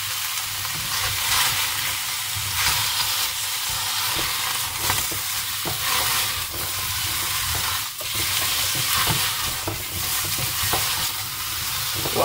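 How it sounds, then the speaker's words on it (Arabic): Eggplant and zucchini frying in a pan are stirred steadily, a continuous loud sizzle broken by repeated scraping and turning sounds over 12 seconds, with no voices. "أقلبهم، أظل أقلب بيهم إلى أن أشوف بدأوا يذبلون"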